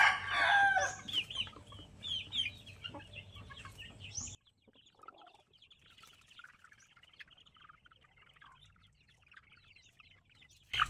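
Fighting cocks crow and cluck close by in a loud burst of calls, then the sound drops to quieter, sparse clucks and faint distant crowing.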